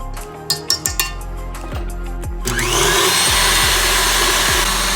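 An electric hand mixer runs at high speed through five egg whites for meringue, opening with a few sharp clinks of the beaters against the bowl. A steady loud whirring drone then fills the rest, close by and uninterrupted.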